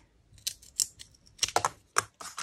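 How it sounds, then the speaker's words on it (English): All-purpose scissors snipping through paper scraps in a string of crisp, close cuts with short pauses between them, no voices over the cuts. "So I just cut it in half. I just use my scissors."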